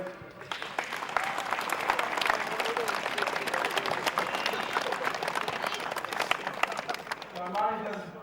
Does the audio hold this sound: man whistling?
no